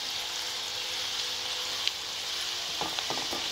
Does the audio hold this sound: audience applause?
no